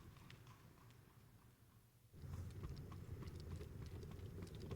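Horses on a long journey in an ASMR roleplay make faint, irregular clip-clopping hoof beats over a low rumbling ground noise that grows louder halfway through, with no talk.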